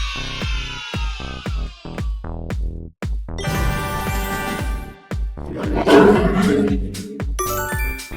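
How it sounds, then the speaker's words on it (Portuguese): A lion's deep roar sounds over bright, bouncy children's music and chiming effects, the growling rumble swelling loudly in the middle of the passage. "É um leão."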